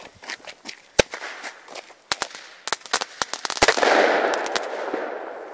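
Airbomb fireworks burst just before New Year, a rapid run of sharp, loud cracks and bangs, some isolated and some in quick clusters, followed by a sustained crackling, hissing shower that lingers and fades.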